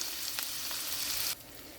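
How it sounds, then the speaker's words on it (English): Lemon and garlic sizzle loudly in a hot pan, a dense crackling hiss close to the ear that drops abruptly to a softer frying near the end, with no voices. "See the steam, and it's sizzling. That's the lemon and garlic."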